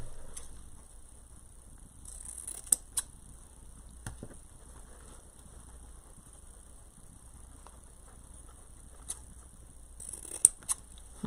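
Scissors snipping dovetail ends into ribbon for a Halloween wreath bow, a few crisp isolated cuts spaced over a quiet background, close and faint, with no speech.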